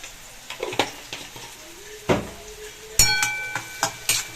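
A spoon scrapes and clinks against a pan while stirring carrot and pea curry with turmeric and chilli powder, irregular metallic knocks over a faint sizzle.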